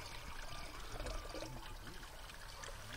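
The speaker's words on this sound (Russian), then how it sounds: "вода через несколько озер попадает в реку по специальной трубе" Treated water from a wastewater treatment plant pours out of a pipe into a river under low pressure, making a steady, even splashing trickle heard alone throughout.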